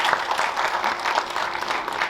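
Short, even round of audience applause welcoming a poet at a mushaira and kavi sammelan in Pune, a dense steady patter from a crowd.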